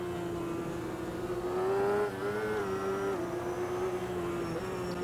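A motorcycle engine in the racing game GP Bikes holds a steady, moderately loud drone at part throttle, with a slight swell and dip in pitch around the middle, alone without talk.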